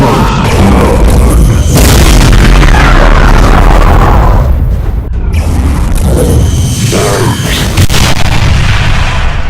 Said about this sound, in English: Spreads of BFG 9000 shots